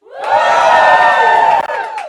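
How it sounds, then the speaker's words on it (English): A comedy club audience at a stand-up show in Dublin cheers loudly on cue, a dense burst of whoops and shouting that swells, holds for about two seconds, then cuts off sharply. "on the count of 3, you all just cheer"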